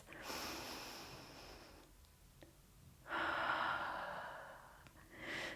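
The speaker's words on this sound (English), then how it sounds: "Take 2 more breaths wherever you are." Slow, deep breaths during yoga practice: a long airy exhale, a quieter pause, then another strong breath, close and intimate with no talking.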